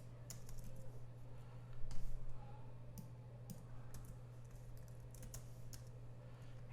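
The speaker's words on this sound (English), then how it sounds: "Otherwise, I'll just be typing here." Typing on a computer keyboard, with quiet, fairly steady key clicks and a few sharper taps, heard alone and close against a low electrical hum.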